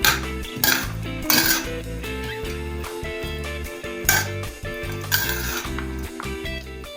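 Salad dressed with pepper and fragrant oil is tossed in a bowl, with utensils clinking and scraping against the dish in repeated bursts beneath steady background music.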